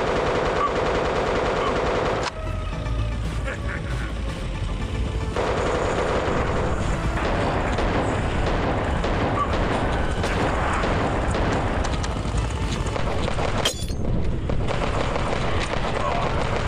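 Rapid gunfire from the VR shooter Operation Wolf Returns, dense bursts of shots layered with explosive booms throughout, loud and continuous, with a man's brief exclamations over the action.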